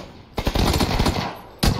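A fast burst of automatic gunshots in a video game, loud and close, rattling steadily for about a second before another shot cuts in at the end.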